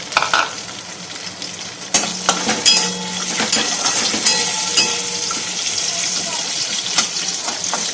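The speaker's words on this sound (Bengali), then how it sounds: "তেল দিয়ে এর মধ্যে এই যে কাজু কিশমিশ গুলো ভেজে নেবে" Cashews and raisins sizzle and crackle in hot oil in a pan as a spoon stirs them, with sharp scraping clicks over a constant frying hiss.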